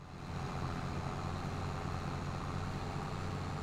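Tractor engine in the video game Farming Simulator 22, a steady low droning motor rumble that holds constant and fairly faint throughout, with no talking.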